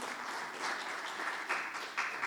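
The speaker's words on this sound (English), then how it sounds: "Please give me a big round of applause." Audience at a banking and finance event giving a sustained round of applause, fairly faint and even, with no talk over it.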